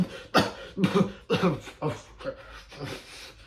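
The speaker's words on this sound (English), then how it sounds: "You heard that coughing over there?" A series of about six harsh coughs close by, coming in quick succession and gradually getting weaker.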